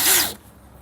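A cordless drill gets a quick trigger pull, its motor whirring up briefly and loudly before cutting off in under half a second, leaving a faint room hiss.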